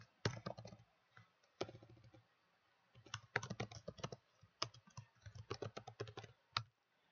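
Names are typed on a computer keyboard in quick bursts of sharp, close key clicks, separated by short pauses and with no voices.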